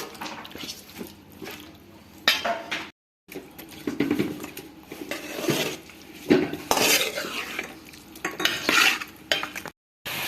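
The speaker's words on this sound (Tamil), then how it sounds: "சிக்கன் சேர்த்து ஒரு 10 நிமிஷம் வதக்கலாம்" Chicken pieces sauté in hot oil in a pan, a continuous close sizzle broken by scraping stirs and clinks of a utensil against the pan, with a couple of brief silent gaps.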